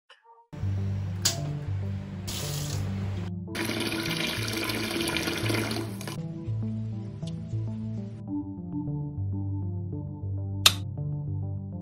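Water gushes from a tap in a few short bursts, the longest lasting a couple of seconds, over steady background music.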